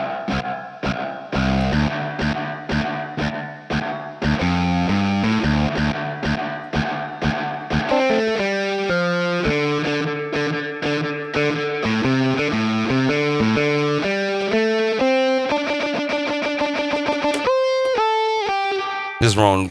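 An electric guitar runs straight into an amp with the reverb turned all the way up, playing distorted notes and chords with long washy tails, loud and close throughout.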